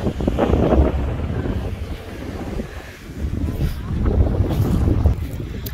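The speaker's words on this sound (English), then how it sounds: "It's very, very windy." Strong wind buffets the microphone at a campsite in heavy, rumbling gusts that swell and ease without pause, with faint water sounds underneath.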